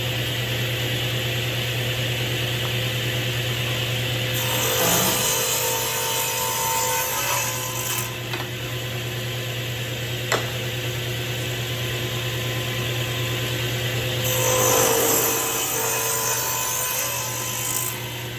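Saw blade cutting through oak held steady in a simple jig, a sustained loud rasping whine with two heavier bursts as the wood feeds through, close up with a steady motor hum underneath.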